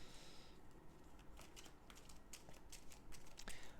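A deck of Eldritch Horror board game cards is shuffled quietly up close, with soft riffling bursts and papery flicks in quick, uneven succession.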